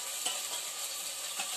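Tomatoes and remaining spices sizzle steadily in a frying pan, a soft even hiss with a couple of faint stirring taps, heard alone and fairly quiet.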